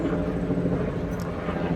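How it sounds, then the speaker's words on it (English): A low, steady aircraft drone from a plane or helicopter passing over a busy street, a broad constant rumble with traffic noise underneath and no clear rise or fall across the moment. "especially that noise, the plane or helicopter, whatever that is"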